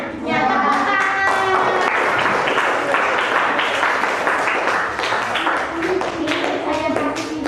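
Students in a classroom give a round of applause, steady clapping of many hands, with a voice talking over it.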